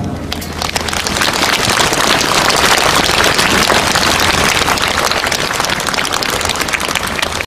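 A large assembled crowd applauding at the opening of a national Buddhist monks' rally in Korea, a dense, loud, sustained patter of clapping that swells quickly and holds steady, with no voices over it.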